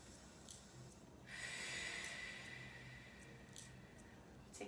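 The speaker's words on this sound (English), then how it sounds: "I want you to take a deep breath" One deep breath taken while stretching, a soft airy exhale rising over a quiet room hiss and then slowly tapering off, close but gentle.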